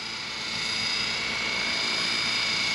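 Trex 600e electric RC helicopter's motor whines steadily at close range, a high-pitched tonal drone with a rising and falling pitch as the throttle and collective move, growing slightly louder over a few seconds.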